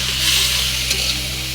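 Bitter gourd being stirred in a pan with spice paste and plenty of onion, giving a steady, close sizzle with soft scraping under it and no talk.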